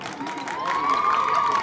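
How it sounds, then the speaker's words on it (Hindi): A crowd at an outdoor stadium championship event claps and cheers for guests, a steady mass of applause building in strength, with a sustained rising whistle-like tone running through it. "जोरदार एक बार तालियां साथियों"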